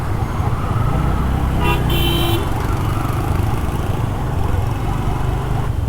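Congested road traffic near Srimangal–Sylhet, a loud continuous engine rumble with a short burst of horn honking in the middle, heard close up from among the vehicles.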